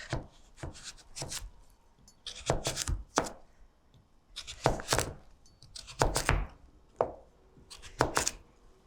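A knife cuts through butternut squash in a home kitchen with repeated firm chops and thunks against a board, arriving in uneven bursts of two or three strokes with short quiet pauses between them.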